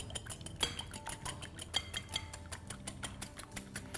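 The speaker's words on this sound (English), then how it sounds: "So the more you whisk your batter for the omelette and you give it more air, the fluffier your omelette's going to be." Eggs beaten with chili sauce, mustard, salt and pepper for a zucchini omelette, with a utensil clinking against a bowl in quick, irregular metallic taps and scrapes, fairly close and steady, no voices.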